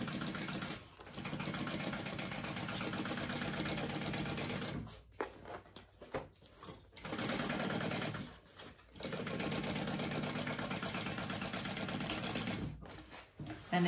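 A sewing machine stitches a seam on a fabric Elora Backpack, a quiet, rapid mechanical whirring run in several long stretches broken by short pauses as the fabric is repositioned.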